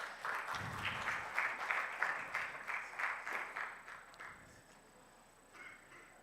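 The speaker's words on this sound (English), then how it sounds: "A round of applause for Mr. Chibwana." A conference audience gives rhythmic, fairly faint applause for several seconds in a reverberant hall, then the clapping tapers off into quiet room tone.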